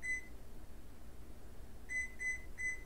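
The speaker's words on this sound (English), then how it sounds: "I am setting the timer." An oven timer being set gives one short electronic beep, then after a pause three more quick beeps in a row, clear and close against a quiet kitchen background.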